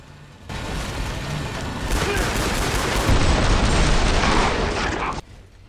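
Loud, close bursts of grenade explosions mixed with rapid gunfire in the zombie shooter Killing Floor 2, a dense, roaring barrage that swells and then cuts off abruptly.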